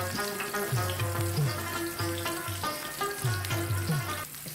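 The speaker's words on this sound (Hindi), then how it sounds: "ये मैंने ऑयल गरम करके तवे पे मैंने कबाब डाल दिया" Peshawari chapli kababs fry in hot oil on a griddle with a continuous sizzle and bubbling, joined by rhythmic low knocks and scraping from cooking at the pan.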